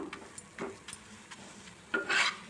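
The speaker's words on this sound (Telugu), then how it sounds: "చపాతీలన్నీ ఇలానే కాల్చుకుందాం మొత్తం" Chapati roasting on a hot pan, giving soft sizzling with light scraping and stirring touches, quiet at first and then a louder hiss near the end as the bread is pressed and turned.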